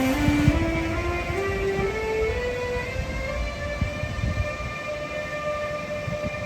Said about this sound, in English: this locomotive with the best noise ever departs